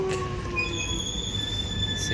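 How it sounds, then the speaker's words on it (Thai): A Melbourne train pulls into a station, its wheels squealing in long high metallic whines over a steady low rumble, close and loud. "รถไฟมาแล้ว"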